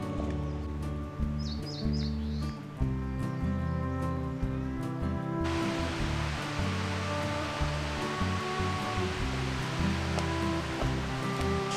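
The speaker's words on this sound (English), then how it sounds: "now we're at the waterfall" A waterfall roars as a steady broadband rush that swells louder partway through, with a few bird chirps early on.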